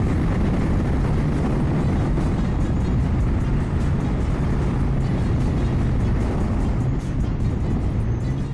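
Kawasaki Z900 50th anniversary motorcycle accelerating, a loud steady engine roar with heavy wind rush from on board, continuous throughout with no talk.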